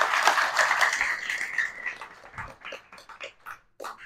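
Crowd applause for the ladies at a devotional katha gathering, a dense burst of clapping that swells at first, then thins into scattered claps and fades within a few seconds.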